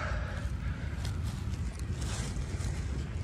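Low, steady rumbling wind noise in an underground adit, with a hollow, enclosed quality, continuous and fairly loud, with no voices.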